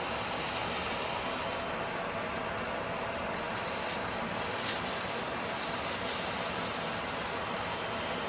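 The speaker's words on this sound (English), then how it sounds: "It's not sanding very well because I think this is quite wet," Continuous abrasive rubbing of sandpaper against damp wood spinning on a lathe, a steady rasping hiss over a low machine hum, fairly loud and close.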